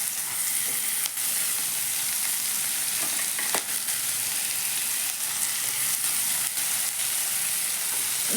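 Tomatoes frying in a pan while being stirred, a constant close sizzle broken by scattered scraping clicks and taps from the spoon, with no talking.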